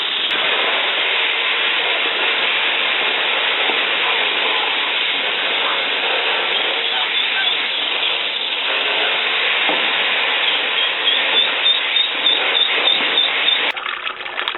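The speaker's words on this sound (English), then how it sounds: "Okay, I have the hose. I can just wash it right down there." Steady rushing spray of a garden hose washing down the drainage of a rabbit pen into a gutter, continuous and fairly loud throughout, with faint splashy ticks toward the end.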